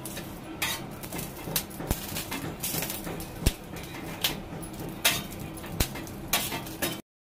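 Green chillies roasting in a little oil in a pan, with scattered metallic clinks and taps of a utensil against the pan and a faint background hiss, irregular and fairly close.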